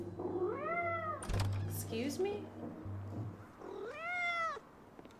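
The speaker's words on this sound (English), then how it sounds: "What happened to that freaking cat?" An orange tabby cat in the video game Life Is Strange: Double Exposure gives two clear, drawn-out meows, one early and one near the end, with a brief spoken line and some clattering in between.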